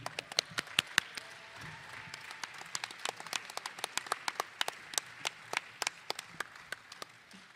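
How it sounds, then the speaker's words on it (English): Sparse, fairly quiet applause from a small audience at a Democratic National Convention climate council event in Chicago, individual claps distinct and irregular, with no talk over it. "Please join me. Give him a big applause."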